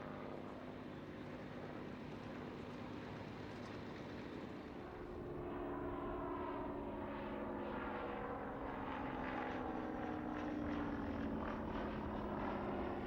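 A Hawker Nimrod biplane with a Rolls-Royce Kestrel V12 inline engine flies past at an air show, a steady distant propeller drone that slowly swells as it comes nearer.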